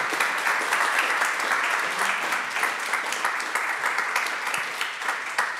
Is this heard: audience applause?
yes